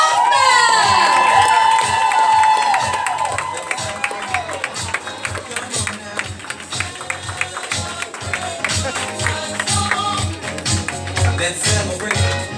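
Event audience cheering, whooping and clapping for a guest being introduced at a Total Life Changes gathering, a loud burst of shouts at first that settles into rhythmic clapping over a steady beat of music, with voices calling out throughout.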